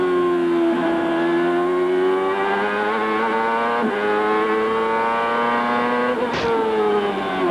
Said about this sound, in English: Hear how much they have to work the throttle and why this track is so hard on fuel mileage.